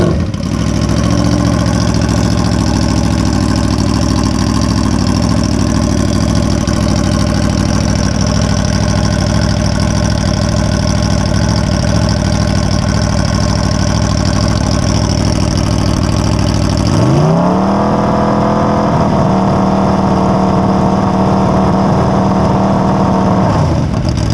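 Aprilia RSV4 motorcycle engine running with the stock slip-on exhaust removed, a loud, raw, steady idle close by that jumps into a sudden rev around two-thirds through, then holds at a higher pitch.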